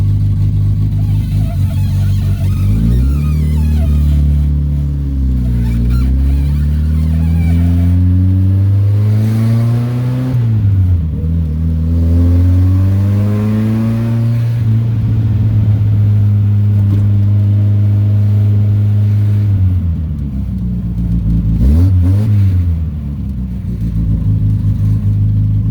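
A 1979 MG Midget with a straight-piped 1500 cc engine being driven, its loud raw exhaust droning and rising and falling through revs and gear changes for the whole stretch.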